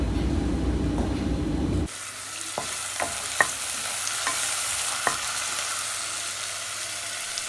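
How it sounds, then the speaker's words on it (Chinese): Rice stir-frying in a pan for chicken curry rice: a steady, close sizzle begins abruptly and continues, punctuated by several sharp clicks and scrapes of the spatula against the pan, with no talking. "这是我在炒饭，我今天做鸡肉咖喱饭。"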